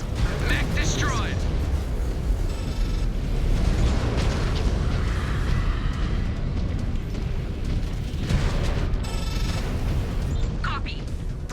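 A destroyed mech exploding in a MechWarrior Ghost Bear Clan battle: a loud, continuous rumbling blast with crackling debris that fills the whole stretch. Radio-style game voices talk over the roar.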